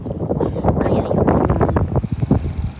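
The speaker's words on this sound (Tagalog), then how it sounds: "ang lakas ng hangin mga langga" Strong, cold wind buffets the microphone outdoors in a wealthy neighborhood of large houses, a continuous rough low roar with gusty swells throughout.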